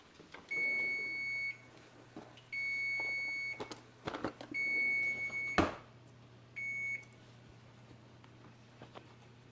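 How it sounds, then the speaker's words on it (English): A kitchen oven timer goes off while homemade honey sourdough crackers bake, giving four bursts of steady high electronic beeping with short gaps between them, loud and close in a quiet room. "Timer's fixing to go off."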